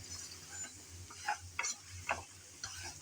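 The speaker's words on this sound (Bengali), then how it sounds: "আদা রসুন বাটা আর পেঁয়াজ দিয়ে আবারও একটু নেড়েচেড়ে ভালোভাবে ভেজে" Soft sizzling of pointed gourd frying in a pan with ginger-garlic paste and onion, with a few quiet scrapes and clinks of a spatula stirring, faint and close with no voices.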